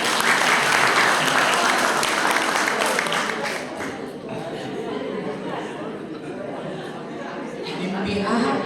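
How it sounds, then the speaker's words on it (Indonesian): A church congregation at an Easter service claps together in strong applause that gradually thins and fades, with chatter and voices mixing in as it dies down. "Kita beri tepuk tangan dulu."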